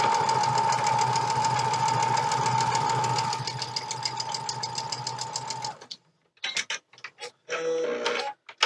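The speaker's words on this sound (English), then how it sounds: "And sewing those pieces up together." Sewing machine stitching pieces of cotton fabric together, a steady fast mechanical whirr with a ticking needle rhythm that runs continuously for several seconds, then stops and gives way to a few short bursts of handling noise.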